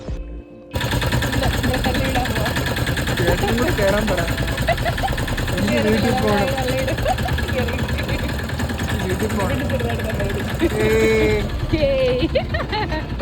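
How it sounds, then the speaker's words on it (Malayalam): A boat engine just started near Kanyakumari runs in a loud, steady drone throughout, with a rough, rattling mechanical texture and voices talking faintly over it. "ഫൈനലി നമ്മുടെ വണ്ടിയുടെ എഞ്ചിൻ ഓൺ ആയിട്ടിരിക്കുകയാണ് ഗൈസ്"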